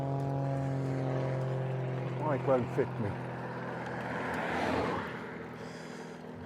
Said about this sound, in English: I don't know if you can hear that aeroplane there.